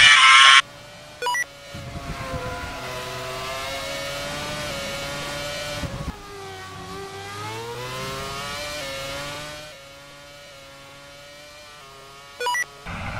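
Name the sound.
race car engine driving in Superleague racing video game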